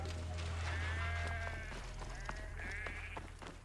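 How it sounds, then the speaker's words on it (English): Goats bleat in a game depicting ancient Egypt, Assassin's Creed Origins, with several wavering bleats overlapping across a steady low ambient hum, moderately loud and close. "Got some goats."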